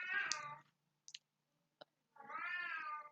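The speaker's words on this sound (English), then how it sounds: "If that cat doesn't shut up, I swear I'm going to skin it alive." Cat meowing close by, two drawn-out loud meows separated by a pause with a few small clicks.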